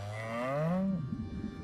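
A cow in the survival video game Icarus lets out a single drawn-out moo, loud and close, with a falling, rumbling tail.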